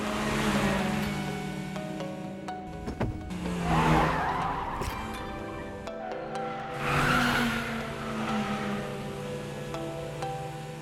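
A supercharged Toyota AE86 Levin racing uphill, its engine droning loudly and changing pitch between gears while the tires squeal and skid through corners in long sustained swells, no voices.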